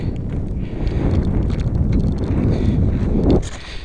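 Wind buffets a microphone outdoors at an RC plane flying field, a loud, rumbling, gusty roar that fluctuates throughout and drops briefly near the end.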